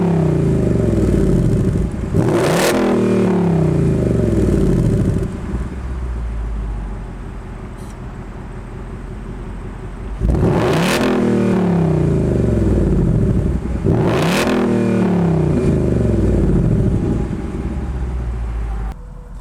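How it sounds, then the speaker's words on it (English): A 2020 Ford Mustang GT Premium with valved exhaust revs loudly up close in three sharp bursts at steady intervals, each rising and falling over a deep, rumbling idle, with no talking. "The biggest difference is quiet to normal because it does have that valve exhaust"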